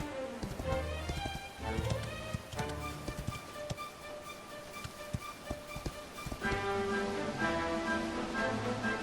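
Horse hooves clip-clop in a steady trotting rhythm while riding through a field in Dragon Quest XI, moderately close, layered under gentle background music.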